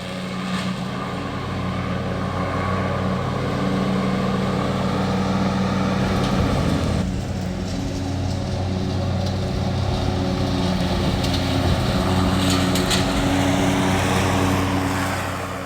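A riding lawn mower's engine drones steadily and loudly up close, a continuous mechanical roar with no voices.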